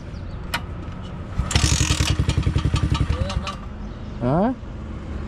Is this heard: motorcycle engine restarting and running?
yes